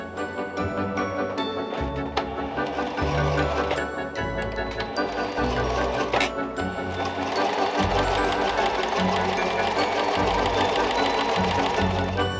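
Sewing machine running steadily as it stitches a redone seam on an Edwardian trumpet skirt, a loud, continuous mechanical whir with rapid rhythmic needle clatter throughout.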